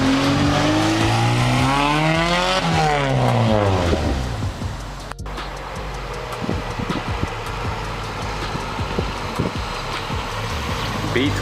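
A Honda Civic wagon with a B20 VTEC engine pulls hard under acceleration, its pitch sweeping up and down through gear changes, then settles into a steady rumble with tire noise while voices talk over it.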